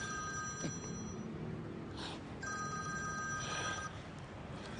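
A telephone rings in two bursts of steady electronic tones separated by a brief pause, fairly loud over a dull background hum, with no talking.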